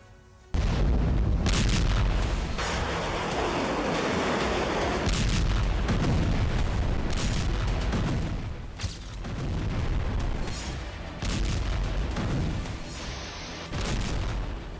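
Israeli bombing in Lebanon: a run of heavy, deep booms and rumbling blasts, loud and sustained, with repeated impacts one after another and no voices.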